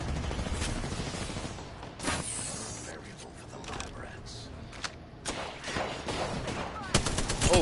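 Video game gunfire in a team battle match, bursts of shots and mechanical clicks recurring through the clip, mixed with game effects and occasional talk from players.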